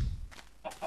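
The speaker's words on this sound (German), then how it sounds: "Na, Huhn." A chicken in the Minecraft video game gives a few soft, short clucks, faint and quick, with nobody talking over them.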